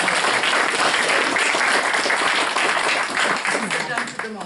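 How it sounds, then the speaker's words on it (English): Audience applause at a candidate forum for the Rockland Fire Protection District, a sustained, even crowd clapping that thins slightly at the end, with voices talking underneath. "So I think we could applaud right now"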